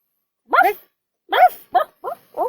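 A dog barking in the video game The Arcana: five short, loud, tonal barks. A single bark comes first, then a pause, then four quicker barks, all against silence.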